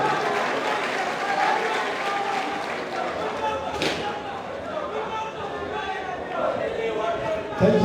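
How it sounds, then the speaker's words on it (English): Audience applause at a convocation lecture in Kazaure for Professor Isa Ali Pantami, dense clapping and crowd noise in a large hall, mixed with chatter and voices throughout. "Please, let's give a hands of applause for the man."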